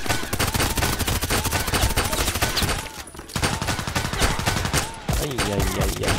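Rapid automatic gunfire bursts in the video game Contract Wars, dense close cracks in long strings with a brief pause near the middle, and a voice talks briefly over the shooting.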